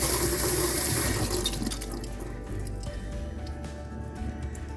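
Dresser hardware is rinsed under a running tap, water splashing and dripping steadily, loudest at the start and then a softer, uneven trickle with no talking.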